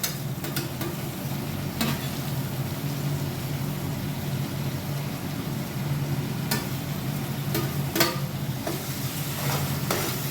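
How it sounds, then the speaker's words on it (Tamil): Tomatoes, about 400 grams, fry in a pot for mutton biryani, giving a steady low sizzle with occasional sharp scrapes of a stirring spoon, close and without any voices. "தக்காளி நல்லா கிண்டிடுவோம்."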